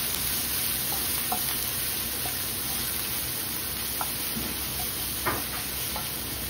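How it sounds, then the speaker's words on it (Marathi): Finely chopped onion and curry leaves fry with garlic in hot oil, giving a steady, soft sizzle with a few faint pops and clinks, with no one talking. "कांदा आपल्याला छान भाजून घ्यायचा आहे"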